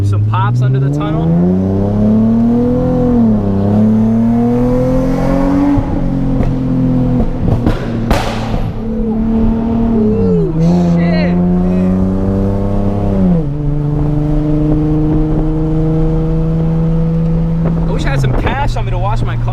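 A Nissan 370Z with a very loud exhaust drives through a tunnel. The engine's tone rises and falls with repeated revs and shifts, and there is a sharp burst of pops partway through, all loud and close.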